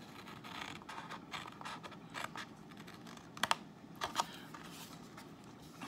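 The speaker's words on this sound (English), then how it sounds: "you literally are going to cut up the score line" Scissors snip through a paper purse pattern along its score line, giving quiet, irregular crisp cuts and rustles with a couple of sharper clicks, close and faint.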